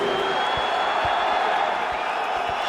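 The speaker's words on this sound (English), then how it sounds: "And the crowd reacts to John Alessio's ability to neutralize the offense of Diego Sanchez" Crowd at an MMA bout between Diego Sanchez and John Alessio, a dense, steady roar of arena noise with scattered whoops and faint clapping, continuous and moderately loud.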